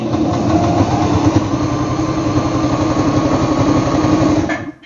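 A Singer Starlet 6680 sewing machine runs steadily for several seconds, a fast, even mechanical whir and needle chatter up close, then stops abruptly at the end.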